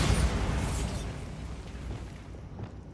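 A Bombarda spell detonates in Hogwarts Legacy, a loud booming burst up front that rumbles and slowly fades over a few seconds, with no talking.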